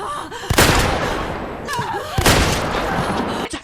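Two loud gunshots in a horror-film forest fight, each a sharp broadband crack with a lingering tail, spaced about two seconds apart over tense background noise.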